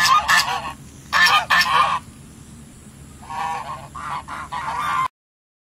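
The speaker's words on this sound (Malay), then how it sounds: "Angsa juga adalah salah satu contoh benda hidup." Geese honk loudly and close by outdoors in several clustered bursts, rising and falling in rough repeated calls before stopping abruptly.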